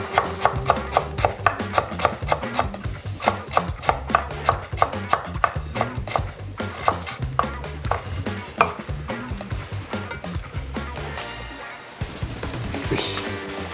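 A knife chops thinly sliced ginger on a cutting board for a yellow curry with soft-shell crab, giving a fast, steady run of sharp, close taps that slows and fades near the end as a pan begins to sizzle.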